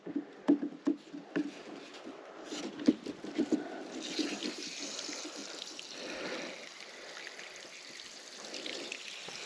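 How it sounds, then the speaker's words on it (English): Water runs and gurgles out of a freshly cut buried water line in a deep trench, with irregular splashes and drips at first that settle into a steady trickle, close and moderately loud. "A little water in the line."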